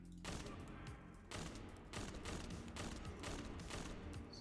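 Rapid gunfire from the Divine Punishment weapon in The First Descendant, a sustained burst of repeated shots in close succession, loud and near, with a short pause before the firing resumes.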